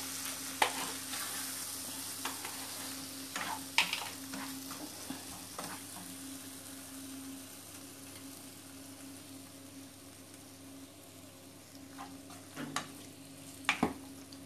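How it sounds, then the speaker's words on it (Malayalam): Lemon pickle is mixed in a pan with the flame turned off. A spoon scrapes softly and clicks now and then, quiet and close, with no talking. "നന്നായി മിക്സാക്കി കൊടുക്കാം."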